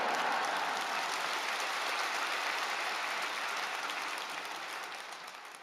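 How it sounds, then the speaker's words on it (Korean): Church congregation applauding to welcome the pastor at a Wednesday worship service, a broad, even wash of clapping from a large crowd, moderately distant and slowly fading near the end. "큰 박수로 목사님 맞이하시겠습니다"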